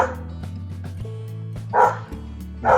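A dog barks in two short bursts against a steady low hum, with a faint clatter in between.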